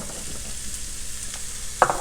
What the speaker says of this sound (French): Quand c'est bien chaud, on ajoute les champignons.